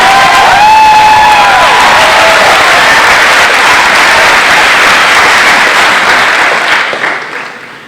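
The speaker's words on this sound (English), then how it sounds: "Can I get a hearty round of applause for this class?" A large crowd applauds and cheers for the graduating class of 2015 at a Brunswick Academy ceremony, with whoops and shouts rising early over loud sustained clapping that fades out near the end.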